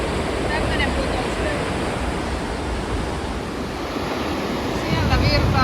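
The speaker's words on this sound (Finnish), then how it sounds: "Tämmönen putous." A waterfall on a summer hiking trail roars with steady rushing water, loud and continuous, with some wind buffeting the microphone.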